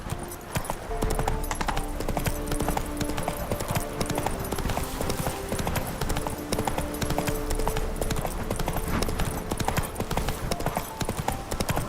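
Hooves of the horse Roach galloping in a video game, a rapid, continuous clip-clop beat close and loud over game music, with a voice speaking briefly.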